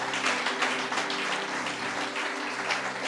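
A congregation at a church service applauding steadily, a dense wash of clapping that holds at an even level, with faint voices underneath.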